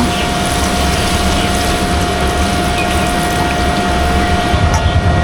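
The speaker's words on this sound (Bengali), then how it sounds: "তরকারটা আমার ভালো করে কষানো হয়ে গেছে এবার আমি পানিগুলো দিয়ে দিব" Water pours steadily and continuously into a pot of cooking curry with a constant rushing flow and a faint hum beneath it.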